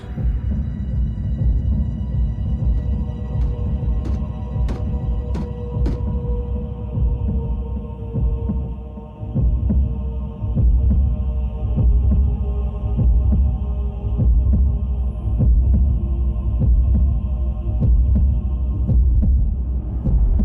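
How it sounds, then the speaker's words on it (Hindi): A synthetic Cybertronian heartbeat rendered from converted audio data in Transformers Prime, a continuous low throbbing hum with steady pulsing beats and occasional sharp electronic ticks, loud and alone with no voices. "Cybertronian heart beat?"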